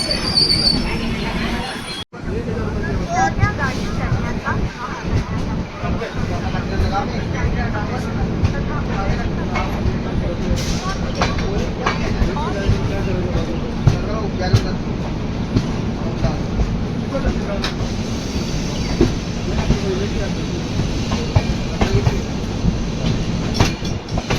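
Steady rumble and rhythmic clatter of a moving passenger train heard from inside the coach, arriving at Chiplun station, with wheel squeal and faint background voices.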